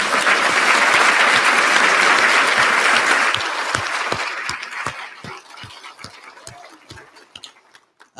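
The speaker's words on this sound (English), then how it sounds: "let's give her another round of applause" An audience at a city's State of the City address breaks into loud, dense applause that thins after about three seconds into scattered individual claps and fades out.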